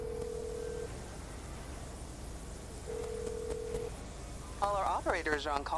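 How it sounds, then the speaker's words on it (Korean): An in-game phone in GTA 5 Online dials an insurance company: a steady ringback tone sounds twice under quiet background noise, a few brief dialing beeps fall between them, and a voice begins talking at the end. "아니 왜 보험회사 전화 안 받지?"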